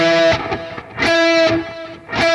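A distorted electric guitar plays sustained notes through layered stereo delay, each phrase trailed by repeating echoes bouncing between sides that keep sounding between the attacks.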